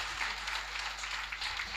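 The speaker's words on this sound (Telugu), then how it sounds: "ప్లీజ్ గట్టిగా చప్పట్లు కొడదాం." Audience applause at a stage event in Naimisharanyam, Uttar Pradesh: a brief, steady wash of many hands clapping at moderate level, with no distinct voices over it.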